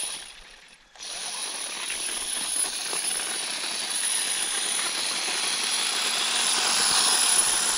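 An RC car on a 2S LiPo spins its studded tires in snow, a steady high electric whine and hiss that swells after a short pause and holds loud and close to the end.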